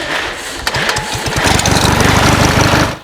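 Pull-cord manual food chopper chopping onions, a rapid whirring rattle that starts with a few separate jerky pulls and then speeds up into a dense, loud buzzing spin before stopping abruptly.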